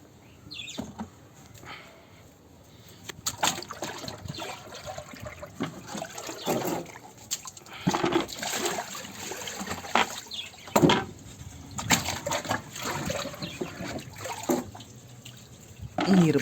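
Water splashes and gurgles as a dirty turtle tank has its water changed, irregular sloshing and pouring close by with brief pauses, and a little faint background speech.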